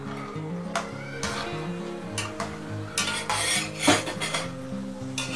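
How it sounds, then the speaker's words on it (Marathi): Peanuts fry in moderately hot oil over a medium flame for Diwali chivda, giving a continuous soft sizzle under repeated scraping and stirring strokes of a spoon against the pan. "मीडियम फ्लेमवरती आपल्याला शेंगदाणे छान असे तळून घ्यायचे आहेत"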